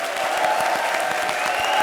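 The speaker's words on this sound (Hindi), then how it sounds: "ताली ठोको" A studio audience at a comedy show claps, with scattered, fairly quick handclaps over a steady crowd murmur and a faint background tone, moderately loud throughout a short burst.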